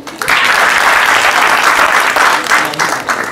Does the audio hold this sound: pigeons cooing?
no